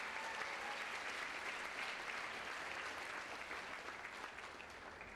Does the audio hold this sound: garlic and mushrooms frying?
no